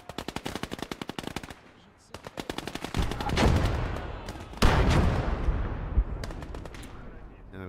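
Sniper rifle shots in the World War II game Gates of Hell: Ostfront: a burst of rapid cracks at first, then several loud, booming single reports with long decaying tails, with someone talking between them.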